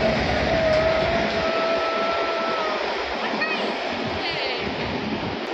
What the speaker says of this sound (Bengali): এই যে ট্রেনটা আসছে